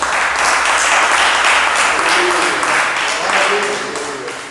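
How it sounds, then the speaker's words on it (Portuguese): Church congregation applauding during a Pentecost service, dense sustained clapping that fills the space at a steady loud level and tapers slightly at the end. "Vamos aplaudir o Senhor."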